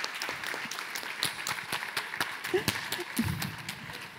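Applause from an audience at a neuroscience talk event, sparse and uneven individual claps that rise and fall, fairly near, with a few brief voices mixed in.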